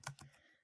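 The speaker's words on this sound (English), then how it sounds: "you can type whatever message" Typing on a computer keyboard, two or three quick, soft key clicks close by, faint and brief, with no talk.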